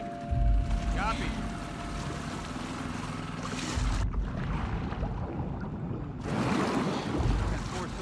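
A boat engine from the video game The Last of Us Part II hums steadily alongside wind buffeting and lapping water, with voices talking over it throughout.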